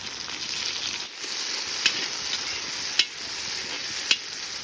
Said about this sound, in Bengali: দেখতে পাচ্ছ মামু এখন তেল দিয়ে দিল কড়াইতে